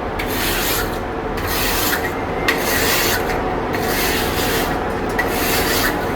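Steel brushes scraping a char grill caked with residue from old steaks, a steady continuous rasping that runs loud and close for the whole stretch with no talk.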